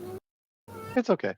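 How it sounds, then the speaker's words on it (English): A cat meowing in a few short, close calls, with a person speaking briefly just before. "That's the cat."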